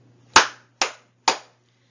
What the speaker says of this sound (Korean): 먼저 강의 전에 박수 3번 치고 강의를 시작하도록 하겠습니다